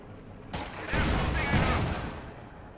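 A sudden volley of gunfire in a World War II video game bursts in and rattles on for about a second and a half before fading, loud and close, with voices in the mix.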